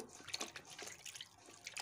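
Peeled, deveined prawns being swished and washed by hand in a bowl of water, soft splashing and trickling with small drips, faint and close with no talk.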